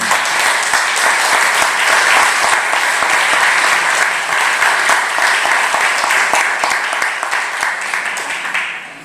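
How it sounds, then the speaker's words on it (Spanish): An audience at a presentation of a study on work and inclusion breaks into strong, sustained applause, dense clapping close by that slowly tapers toward the end. "quiero pedir un fuerte aplauso"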